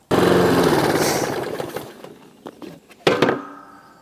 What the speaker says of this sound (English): here you can see some of the thatch which the mower is picking up at this stage